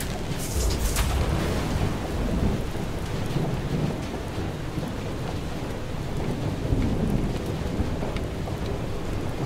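Thunderstorm with heavy rain in the video game FAR: Changing Tides: a loud thunder crack near the start, then steady dense rainfall and rumbling throughout, no voices.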